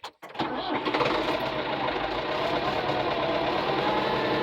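A diesel mower engine cranks and catches, then runs loud and close with a rough, knocking idle that rises and falls as air clears from the fuel lines after bleeding.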